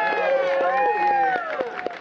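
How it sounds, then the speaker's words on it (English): Crowd at the mural reveal at Ben's Chili Bowl in D.C. claps and cheers for founder Virginia Ali, with sustained voiced shouts over a steady patter of hand claps throughout. "Can I have a big round of applause for my mom and founder,"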